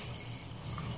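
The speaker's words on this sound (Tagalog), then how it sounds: "Tapos lagyan natin ng konting tubig" A little water poured into a pan of simmering chicken liver and gizzard adobo, a faint, steady splashing trickle heard alone for about a second.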